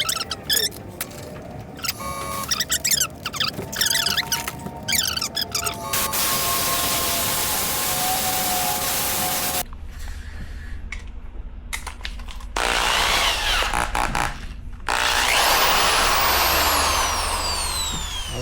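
A hand drill spins a fishing rod grip onto a mandrel, whirring in several bursts of varying length with short pauses, loud and close with a harsh, buzzy tone and no voices.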